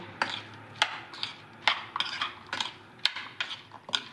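Chana chaat being mixed with salt, a series of close, sharp clinks and scrapes of a spoon against a bowl in an irregular rhythm, with no speech.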